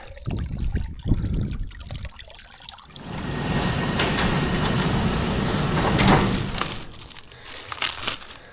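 Water pours from a 5-gallon container in a steady gushing stream lasting several seconds, preceded and followed by crinkling and handling noises.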